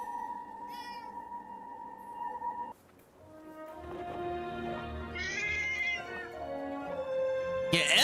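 Cat meowing in the video game Forspoken, a series of drawn-out tonal meows and a rising caterwaul, close and clear, with a short gap between calls and game music tones around them.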